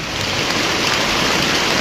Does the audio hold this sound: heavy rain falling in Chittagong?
yes